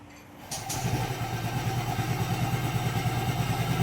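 A Yamaha Gravis motorcycle engine cranks and catches after a brief click, then settles into a steady, close idle with rhythmic pulsing chug.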